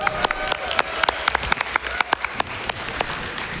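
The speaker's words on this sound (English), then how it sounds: "Yeah, I'll clap for that." Scattered clapping from a live speedrun event audience, sparse and uneven with distinct individual claps standing out over a light crowd murmur.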